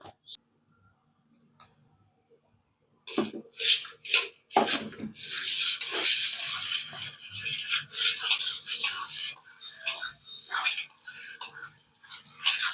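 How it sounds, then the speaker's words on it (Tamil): Fish washed by hand in water with salt and turmeric, quiet at first, then sustained splashing, rubbing and dripping with irregular sloshes close by. "உப்பு மஞ்சளும் போட்டு நீங்கள் கழுவிக்கலாம்"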